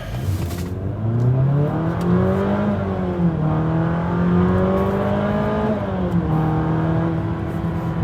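A 2020 Jeep Compass Trailhawk's 2.4-liter four-cylinder engine revs up steadily through the gears, its pitch rising and dropping with each shift, continuous and fairly close.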